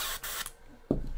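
An airbrush sprays primer in brief, airy hisses, two quick puffs followed by a louder burst, up close.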